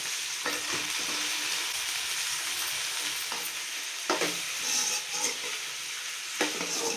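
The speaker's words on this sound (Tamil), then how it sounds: "இப்போ நம்ம தக்காளி சேர்த்து வதக்கலாம்." Tomatoes sautéing in hot oil for a Tamil-style brinjal curry, a steady close sizzle and crackle with occasional scraping stirs of a spoon against the pan.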